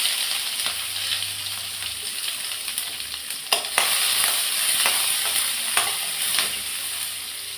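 Chopped onions sizzle in hot oil after mustard seeds, a steady bright frying hiss with occasional stirring clicks from a spoon against the pan.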